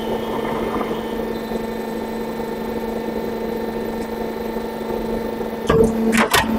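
Glazed tile ridge cap roll forming machine running automatically, a steady close mechanical hum and drone with a strong constant tone, ending in a few sharp clunks near the end; no talking.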